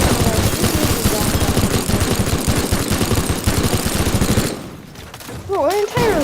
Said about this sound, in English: Minigun! Minigun! Die.